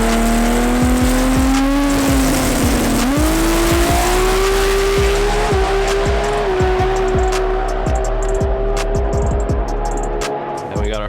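A drag race car makes a full quarter-mile pass, its loud engine howling steadily higher through the gears with brief tire chirps, continuous and close for the whole run.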